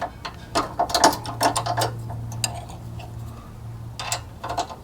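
A 1/4-inch Allen wrench tightens a bolt on a Synergy rear track bar brace on a Jeep JK, giving bursts of sharp metallic clicks and ratcheting ticks in uneven clusters, close up.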